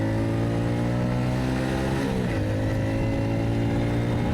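A 2021 BOOM BD125-2 125cc motorcycle runs at wide-open throttle, its engine holding a steady, loud, buzzy drone with dense harmonics and a brief dip and pitch shift midway, heard up close with no talking.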